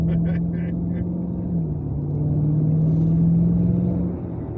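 Cars pass on a road beside a work zone with trucks, heard from inside a slow-moving muscle car as a steady low engine drone and tyre rumble, with a brief higher hiss at the start.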